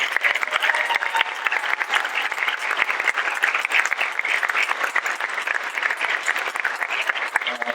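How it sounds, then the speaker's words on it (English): Dense, sustained audience applause after a string orchestra performs at a school instrumental concert, continuous bright clapping from a crowd filling the hall throughout, no voices on top. "Let's give another round of applause to the String Orchestra."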